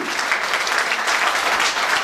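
Loud, dense applause from an audience at an official launch event in Paris, continuous and close throughout, with no distinct voices.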